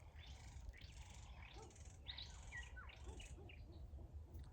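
Birds call outdoors in a quiet setting, a series of repeated soft hooting and chirping notes at moderate distance over a faint low background hum, with no talking.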